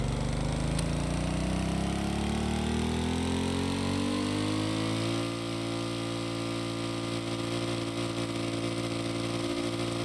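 A large V-shaped engine in the Stormworks game runs under low load with a steady, buzzy, lawnmower-like drone, its pitch climbing over the first five seconds and then holding level; no one speaks.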